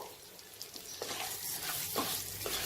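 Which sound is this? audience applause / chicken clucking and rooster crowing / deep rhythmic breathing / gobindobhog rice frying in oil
gobindobhog rice frying in oil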